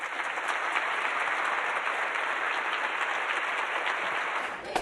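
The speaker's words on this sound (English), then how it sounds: "let's all give them one more round of applause" Sustained audience applause fills the room at an ACLU of Minnesota breakfast event, a dense steady wash of many hands clapping that holds throughout before trailing off at the very end.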